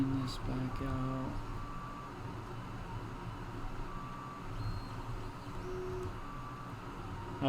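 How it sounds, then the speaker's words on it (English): A 3D printer running mid-print gives off high, thin squealing tones, with a brief harmonic burst near the start, then fainter intermittent whines under a steady low background hum. "I have my 3D printer going in case you can hear the squealing in the background."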